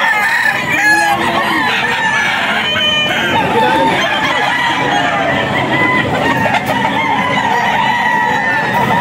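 Gamefowl roosters crow repeatedly at a farm among hens, with clucking and other birds layered throughout, loud and close, with voices faintly mixed in.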